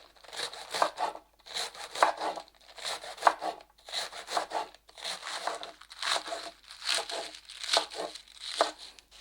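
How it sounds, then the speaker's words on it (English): A knife slices through Chinese cabbage on a board in regular bursts of crisp crunching cuts, roughly one every second, close and clear with no talking. "Let's start with Chinese cabbage. The cabbage, I cut this part"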